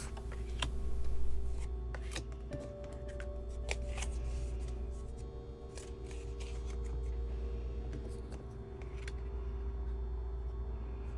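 Tarot cards being shuffled, a steady papery riffling and rubbing that runs throughout at moderate volume, with no talk, over a faint background hum.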